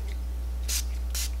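Two short bursts of a Rainforest of the Sea 4-in-1 setting mist spray bottle, close and crisp with a brief pause between them, over a low steady hum.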